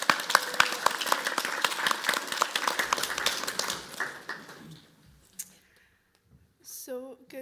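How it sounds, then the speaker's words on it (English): Applause at a youth politics event as presenters are invited to the podium, dense clapping from a crowd that fades out after about five seconds, followed by brief faint sounds and a voice. "Please give them a round of applause."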